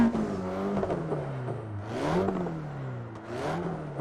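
A Renault Mégane engine in the Assetto Corsa video game revs up and down in repeated swells, its pitch rising and falling through about three climbs, with a raspy exhaust tone close and clear.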